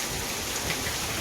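Steady rain falls outside a car, a dense, even hiss of drops without a break.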